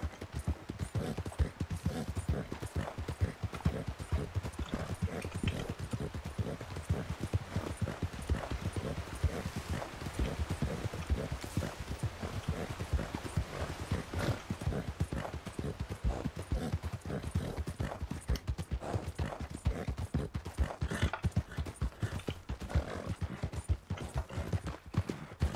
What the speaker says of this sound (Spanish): Señor Finn, si quiere puede subir a mi caballo para, ya sabe, ir más o menos iguales